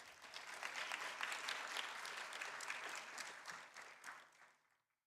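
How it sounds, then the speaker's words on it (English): A large audience applauds for a speaker at a cultural peace event in Bangkok, dense steady clapping that swells and then fades out toward the end. "A big round of applause for Dr. Chaitanya Prakash Yogi one more time."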